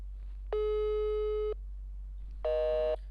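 Telephone call tones, two clean electronic beeps: a long one, a pause, then a shorter one, loud and close with a low steady hum behind them.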